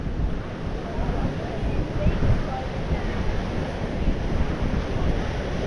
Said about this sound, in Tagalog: natutuwa yung mga surfer kasi malaki ang alon